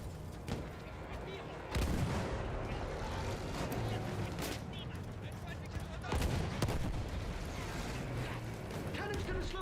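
A war video game played over cloud streaming on a console fills with machine-gun bursts and heavy artillery blasts, loud, dense battle noise with sharp booms, and voices talking under it.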